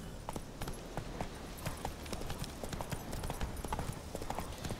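Horse hooves clip-clopping at a steady trot in the video game The Witcher 3, a quick even rhythm of soft thuds heard fairly faint beneath a low ambient bed.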